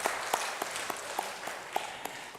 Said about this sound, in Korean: 하나님께 영광의 박수를 올려드리겠습니다.